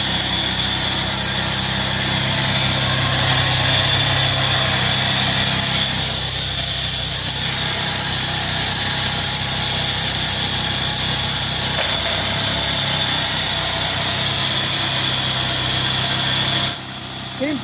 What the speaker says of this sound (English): Seems to crush rock and make noise.